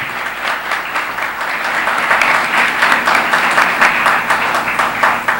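A church congregation bursts into sustained applause during an evening service, a dense steady wash of many hands clapping close by throughout, with no talk over it.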